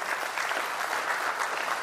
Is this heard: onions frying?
no